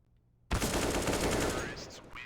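A submachine gun fires in Counter-Strike on the Mirage map, starting abruptly in a rapid, sustained burst that fades slightly toward the end.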